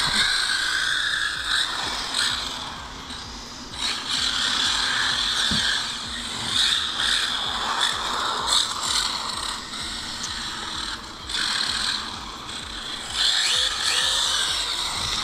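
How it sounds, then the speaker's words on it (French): An FS Racing E9.5 RC buggy's transmission whirs and rattles with a gritty, ratchet-like mechanical whine that surges and fades in waves, close and continuous, with no talking. "Elle a un bruit de transmission un peu particulier, hein, on a l'impression qu'elle a un souci"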